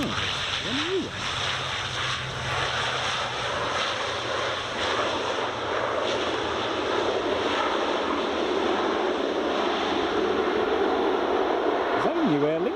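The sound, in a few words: Aer Lingus airliner passing at Edinburgh Airport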